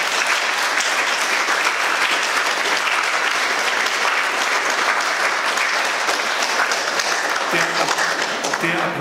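An audience at a political panel discussion applauds steadily, a loud, sustained roar of many hands that holds at full strength throughout.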